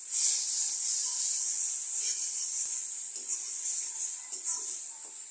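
Vegetables cook down in a pan as released water is dried off with mustard oil to follow, giving a steady bright hiss with faint scraping taps from stirring, close and without speech.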